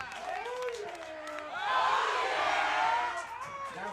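A championship softball crowd cheers as a run scores for the Bears, voices swelling into a loud roar midway and then easing back.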